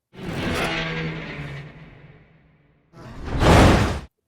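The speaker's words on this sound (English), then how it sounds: "But I love they flip that truck." A big rushing whoosh and rumbling crash as a truck is flipped over in The Dark Knight, a long roaring swell that fades out, a brief silence, then a second loud swooshing burst.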